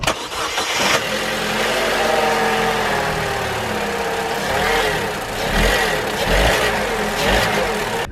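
Vauxhall Corsa fitted with a performance air filter, its engine starting up and settling into a steady mid-pitched idle with a few rises and falls in revs, close and fairly loud.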